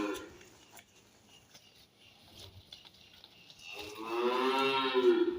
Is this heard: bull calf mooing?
yes